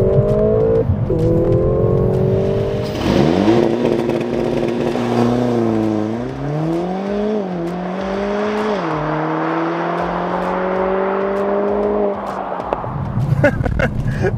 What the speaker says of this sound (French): c'est un modèle performance, ça veut dire que ça a un launch control